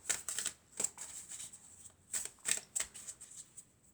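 Oracle cards shuffled by hand, close and crisp, with quick riffling bursts and soft slaps coming in irregular clusters over a few seconds, no talking.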